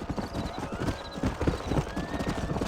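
Horses' hooves clip-clop in a steady, close rhythm in Red Dead Redemption 2, several animals walking together, with a faint thin tonal line of background music above.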